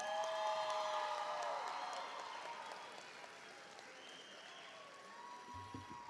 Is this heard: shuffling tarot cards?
no